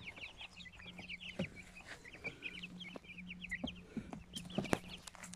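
Marans chickens cluck and chatter in soft, overlapping calls, with a few louder squawks near the end, heard from a moderate distance against a faint background hum.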